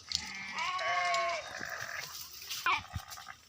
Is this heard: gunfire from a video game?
no